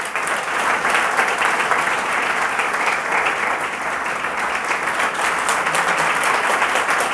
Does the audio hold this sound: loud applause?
yes